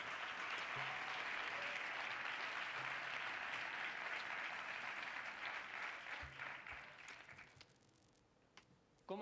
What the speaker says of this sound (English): Let's have a big round of applause because he's the first.